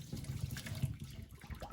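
Water pours steadily from a container into a pot or blender holding dried chiles for enchilada sauce, a continuous close splashing trickle with no one talking.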